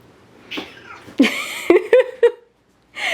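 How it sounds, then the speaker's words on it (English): Cats yowl and squeal in short, sharp outbursts with scuffling noises in between, close by, followed by a brief silence. "if you hear random noises, it is my cats wrestling with each other"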